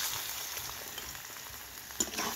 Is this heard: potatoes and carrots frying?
yes